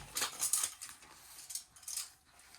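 Metal measuring spoons clinking and rattling together in a kitchen drawer during a search for a teaspoon, light scattered clatters in two short bursts.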